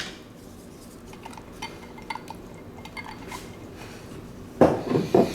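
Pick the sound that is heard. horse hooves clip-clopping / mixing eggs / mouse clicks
mixing eggs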